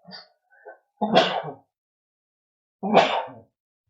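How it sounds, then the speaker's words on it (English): Two loud, close sneezes about two seconds apart, each a sharp burst, following a couple of faint breathy sounds in an otherwise quiet room. "I'm going to sneeze, I think."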